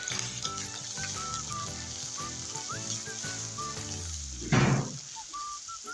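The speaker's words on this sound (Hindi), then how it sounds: "अब मैं इसमें डालूँगी 1 चम्मच लहसुन अदरक का फ्रेश पेस्ट और इसे हम 30 से 40 सेकंड तक फ्राई करेंगे।" Fresh garlic ginger paste frying in hot ghee, a steady close sizzle and crackle that swells into a louder burst of hissing near the end.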